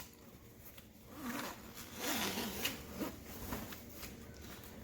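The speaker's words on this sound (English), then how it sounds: "Then it's got a full body zipper that goes all the way down." A full-length zipper on a fleece-lined snow jacket is drawn along in several close, scratchy pulls, each a short rasping run of teeth, fairly quiet with a little rustling of the fabric between strokes.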